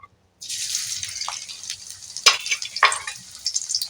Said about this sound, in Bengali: পেঁয়াজটা কিছুটা আমি ভেজে নেব